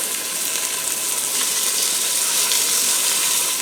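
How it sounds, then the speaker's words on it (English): Cube steaks frying in a Ninja Foodi pot on a high sear setting, giving a loud, dense, continuous sizzle close up with no talking. "I'm going to have to fry my steaks in like batches of 2 because they're pretty nice sized"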